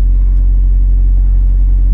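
Steady low engine rumble from a truck heard from inside the cab, a loud, constant drone with no talking.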